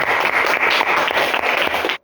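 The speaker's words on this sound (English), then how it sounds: "Okay, guys, give applause for us." A class of students applauding, dense steady clapping at close range for about two seconds that cuts off abruptly.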